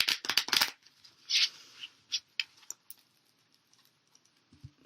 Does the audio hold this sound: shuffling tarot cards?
yes